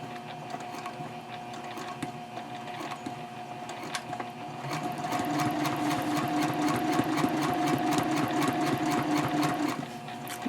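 A sewing machine stitches slowly along a curve on a messenger bag, a soft rhythmic ticking that picks up into a faster, louder steady patter of needle strokes under a constant motor hum.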